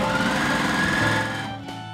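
A sewing machine stitches quilt rows right sides together for a jelly roll paint drip quilt, running steadily and close at a fast even buzz, then slowing and winding down near the end.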